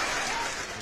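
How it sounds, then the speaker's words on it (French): Applause-like broadband clatter of a person clapping hands during a French-language livestream, steady and fairly close, filling the short moment without speech. "Je vais applaudir un peu."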